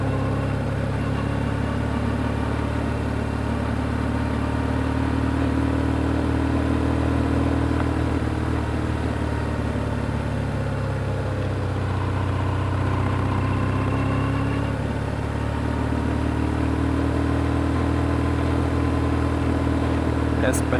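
A BMW R1150GSA motorcycle rides gently over gravel, its engine a steady, close, mid-pitched drone with rough background noise that continues unbroken throughout.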